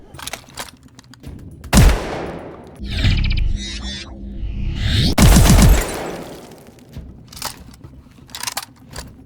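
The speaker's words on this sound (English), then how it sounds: "4 shot sounds emit where only 3 rounds were fired" Loud, booming shotgun blasts from a first-person shooter video game, several heavy shots with mechanical clicks and pumping sounds between them, with more shot sounds than rounds fired, no voices.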